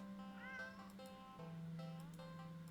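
A cat in a video game meows repeatedly, drawn-out plaintive cries over a steady low electronic hum and game music, fairly close and continuous for nearly three seconds.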